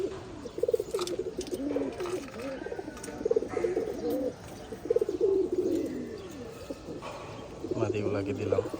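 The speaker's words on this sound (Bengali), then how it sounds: "কবুতরগুলো খাইতেছে।" Pigeons coo repeatedly while feeding after being given dewormer and liver tonic in their water, a steady run of low throaty calls close by, with a few chirps mixed in.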